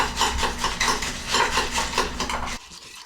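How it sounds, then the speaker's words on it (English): Ice rattles against glass as a whiskey cocktail is stirred with a bar spoon, in a steady rhythmic clinking for about two and a half seconds, then stops abruptly. "And then I just stir the wampum out of it."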